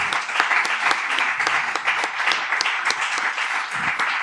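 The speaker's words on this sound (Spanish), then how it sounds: "Y sí, aplaude," Listeners at a round-table panel on intangible heritage applaud, a steady wash of many hands with some distinct individual claps standing out.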